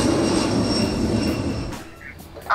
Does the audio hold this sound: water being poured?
no